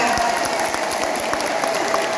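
Applause from an audience at a monthly Muslimat NU women's religious gathering in Bogor, a steady dense wash of clapping from many hands filling the whole moment, close and fairly loud.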